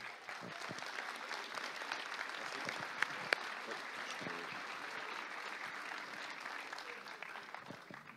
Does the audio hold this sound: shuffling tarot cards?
no